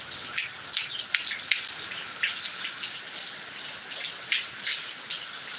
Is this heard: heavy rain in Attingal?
yes